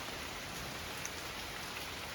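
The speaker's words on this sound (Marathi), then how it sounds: "एक चुटका काढून बघतो तर पाऊस पडतोय" Steady rain falls, a soft even hiss with faint drips scattered through it. Nobody speaks.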